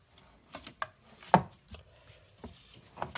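A kitchen knife snips and cuts the rubber band off a live lobster claw, with several sharp, dry taps and one louder click at close range in an otherwise quiet setting.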